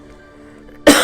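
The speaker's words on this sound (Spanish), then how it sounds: "Una disculpa porque tengo por ahí tos." A single sharp cough bursts out close and loud at the very end, following near-silence with only faint room hum.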